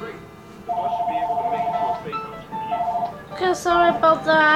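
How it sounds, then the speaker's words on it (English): A toy telephone from an Avengers play set rings with a repeated electronic bell-like tone, sounding in two bursts with short pauses, while people talk close by before and after. "That's the phone ringing."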